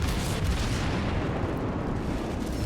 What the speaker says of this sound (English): I'm taking some shots at him